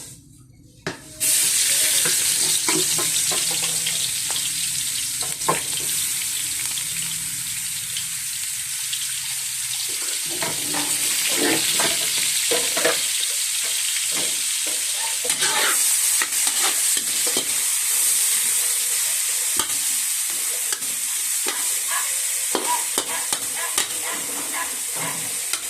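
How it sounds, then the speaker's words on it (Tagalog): Ginger sautés in hot oil for a chicken tinola, a loud continuous sizzle that starts abruptly and holds throughout, with spatula scraping and stirring clatter over it. "Gisahin ang luya."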